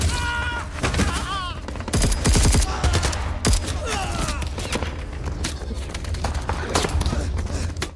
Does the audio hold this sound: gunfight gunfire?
yes